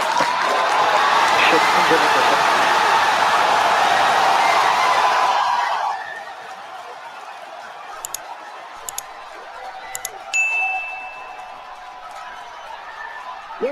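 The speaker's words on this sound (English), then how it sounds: "You're hearing the cheering." A crowd cheers loudly at a SpaceX Starship launch, a broad roar that holds steady for about six seconds and then cuts away to quieter broadcast commentary with a few faint clicks and tones.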